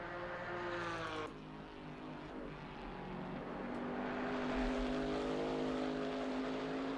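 A Porsche GT4 race car in Assetto Corsa Competizione drones along steadily, its engine tone shifting down after a gear change and then building again as it accelerates, heard alone at moderate volume.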